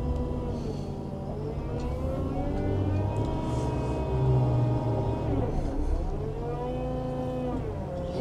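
A Kramer KL 55.8T wheel loader drives forward, its engine a steady, close, loud drone with a rising harmonic whine as it picks up speed.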